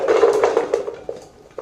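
Metal utensils and pots used to mix mango pickle clatter and clink, a dense jangle of ringing strikes that thins into a few isolated knocks.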